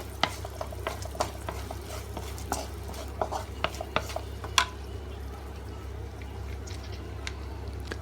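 Three slit green chillies stir-fried in a pan for tomato rice, a spoon scraping and tapping the pan in irregular strokes over a low, steady background hum, close and moderately loud.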